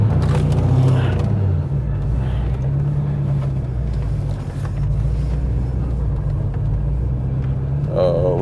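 A Chevrolet Corvette C5 Z06 rumbles with a deep, steady engine drone from inside the cabin while driving, continuous and fairly loud throughout.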